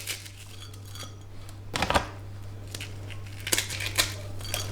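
Ingredients are pressed and crushed into a dish, giving a few short scraping crunches and clinks over a steady low hum, close and moderately quiet.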